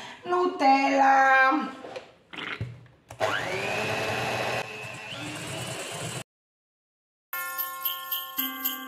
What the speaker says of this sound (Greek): παίρνουμε τώρα και το μίξερ χειρός